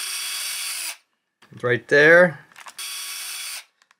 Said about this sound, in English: I'm gonna first drill the one holes on one side